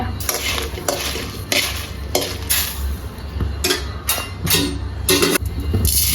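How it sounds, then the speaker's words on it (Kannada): Steady sizzle of mustard seeds, fenugreek and other spices frying in a pan for Mangalore-style mackerel curry, with repeated sharp scrapes and clinks of a spoon stirring against metal. "ಸಾಸಿವೆ ಮೆಂತೆ ಆಗ ತೆಗೆದ ಎಲ್ಲ ಐಟಮ್ಗಳನ್ನು ಈಗ ಹುರಿಯಿರಿ"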